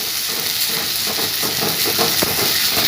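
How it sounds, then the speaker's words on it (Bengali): Cumin and green chili paste fries steadily in a pan for an elephant-foot yam and fish-head dish, giving a loud, continuous hiss with faint crackles and no voices. "এবার এটা দিয়ে দেবো ভালোভাবে একটু কষিয়ে নেব মশলাটা"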